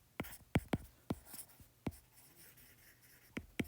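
A pen or marker writing on paper or a board while working a physics mass-pulley problem, with several sharp, separate strokes and taps spread across the clip, close and fairly quiet, with no voice.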